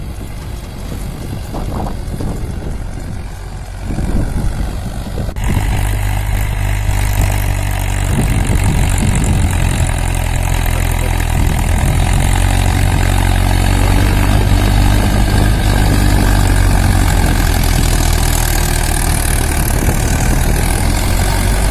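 A tractor engine runs while it destroys a two-acre onion crop on a farm in Gondadahalli, Ajjampura taluk. A quieter stretch gives way to a loud, steady, low drone that continues to the end.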